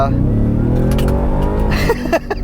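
A 2023 Ford F-150 Raptor R pickup with a supercharged engine revs up in a deep, mellow roar, loud and close, while a person talks over it near the end.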